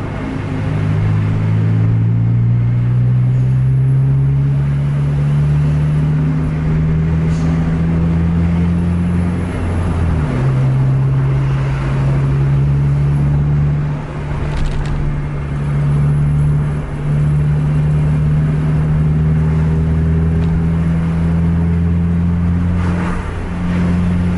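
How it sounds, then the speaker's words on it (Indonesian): A steady, loud engine roar from a passing vehicle fills the scene, with sustained rumbling and shifting tonal whine, continuous throughout, with no speech. "Ada kendaraan."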